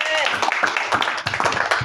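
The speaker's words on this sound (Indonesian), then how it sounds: "Tepuk tangan dulu untuk regu C." An audience at a regional Islamic quiz contest between Quran schools claps for team C. Scattered, uneven clapping is heard, with a bit of loose crowd noise mixed in.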